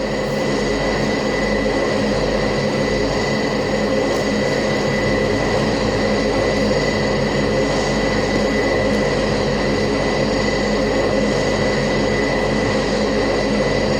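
Turboprop aircraft engine in a flight video game during an emergency landing over arctic terrain, a steady, loud droning hum with a constant tonal whine that holds unbroken throughout.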